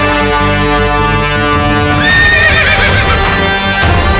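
A horse neighs loudly and close by in an old battlefield setting, a sustained harmonic whinny that breaks into a rising, shaky squeal partway through, with no talk over it.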